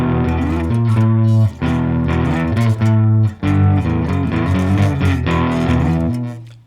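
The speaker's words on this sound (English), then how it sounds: "Got a new Boss Katana. Beautiful amp, love it." Electric guitar with crunchy overdrive played through a Boss Katana amplifier, loud sustained distorted chords struck in a rhythmic pattern with short breaks, close and alone without talk.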